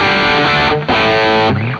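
Electric guitar played through a distortion pedal on an affordable pedalboard, thick saturated chords ringing loud and sustained, with a brief dip in the middle before the next strum; no talking.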